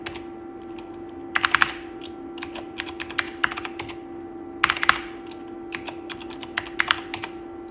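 Keystrokes on a computer keyboard of a 486 PC running Minix, quick bursts of crisp clicks separated by pauses, close, over a constant electrical hum.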